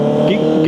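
Honda CB650R E-Clutch motorcycle engine revving hard: a loud, close, steady high-pitched engine roar sustained throughout, with a voice faintly audible underneath.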